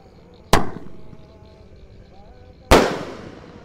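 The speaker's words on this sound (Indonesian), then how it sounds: "lanjut yang kita nyalakan di sini ada mercon elang mas guys" Two sharp, loud firework bangs about two seconds apart, each followed by a fading crackling tail, from firecracker rockets launching and exploding at night during Ramadan.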